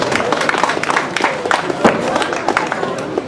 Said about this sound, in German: ein kleiner Applaus für die Kohlregentin